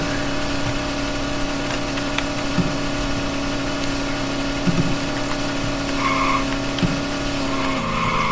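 A race car drives a last lap in the Vehicle Legends game, its engine holding a steady drone while tires squeal and skid now and then; the sound stays even and continuous, with a rising whine near the end.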